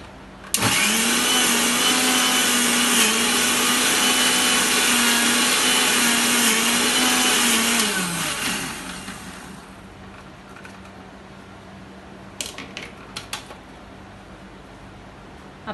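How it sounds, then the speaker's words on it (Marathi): A mixer grinder grinding green chillies with ginger-garlic paste for chutney whirs loudly at high speed for several seconds, then winds down and stops, followed by a few faint clicks. "तर हे मिक्सरला वाटून घेऊयात"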